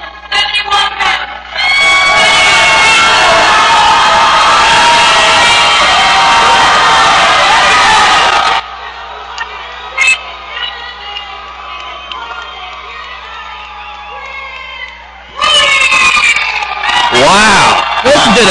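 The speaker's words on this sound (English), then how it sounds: "Listen to the crowd!" A crowd at an MMA cage-fight introduction erupts into loud, sustained cheering, whoops and shouting for several seconds, then drops to a lower murmur with a few voices before surging loudly again near the end.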